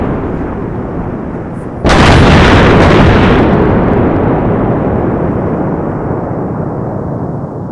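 An explosive charge detonates during military platoon training: one sudden, loud blast about two seconds in, followed by a long, heavy rumble that fades slowly. There is no speech.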